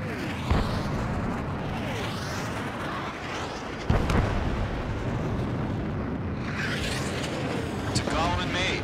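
A missile launched from an F-16XL fighter jet in Ace Combat 7, sharp whooshing bursts over a constant roaring engine and wind rush, with radio voices speaking over it.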